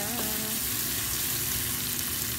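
Chopped garlic and ginger fry in a hot pan with a dense, continuous, close-up sizzle that holds steady for a couple of seconds.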